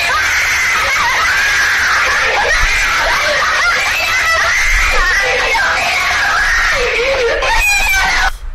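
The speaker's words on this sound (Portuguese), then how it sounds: "As crianças começam a gritar," Children scream in a video game, a loud, sustained chorus of high wavering shrieks that continues throughout and cuts off abruptly at the end.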